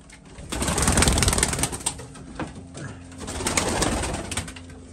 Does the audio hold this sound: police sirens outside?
no